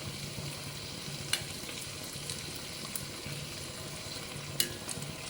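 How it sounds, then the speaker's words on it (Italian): Cannellini beans with pork rind boil in broth in a pot, giving a steady bubbling simmer with a few sharper pops and clicks. "Sta bollendo bene."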